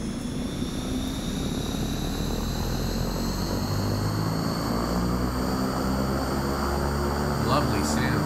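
A King Air 350 twin turboprop in X-Plane 11 runs after engine start, a loud steady whine and drone with tonal hums, holding constant and close with no pauses throughout.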